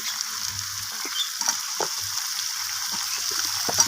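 Pumpkin and potato pieces fry with a katla fish head in a pan, a soft steady sizzle punctuated by irregular scrapes and knocks of a spatula as the mixture is stirred.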